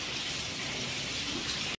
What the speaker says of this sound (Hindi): ये बारिश हो रही है